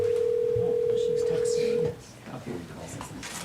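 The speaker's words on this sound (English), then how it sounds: "Oh, we have a call." Incoming phone call on a conference line during a school board meeting, a steady electronic tone held for about two seconds, loud and close, then stopping as people begin talking in a room.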